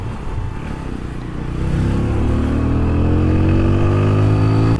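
A motorcycle is ridden and revved, its engine roaring loud and close and climbing steadily in pitch as it accelerates under constant wind noise.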